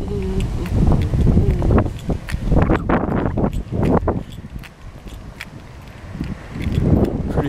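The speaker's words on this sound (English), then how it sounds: "God, it's windy." Gusty wind buffets the microphone while cycling outdoors, in broad low rumbles that rise and fall, with scattered rustling and faint footsteps.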